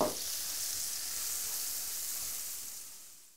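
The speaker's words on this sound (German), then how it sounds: "Unsere Zwiebeln kommen als nächstes ran. Auch noch mal schön anschwitzen." Onions sweat in a pan with salami, giving a close, steady hiss of sizzling that starts abruptly, holds even, and slowly fades.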